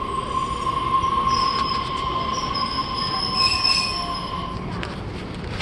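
A South Shore Line commuter train passes close by, its wheels squealing in a steady high metallic whine over a continuous rumbling roar, with rail clatter fading toward the end.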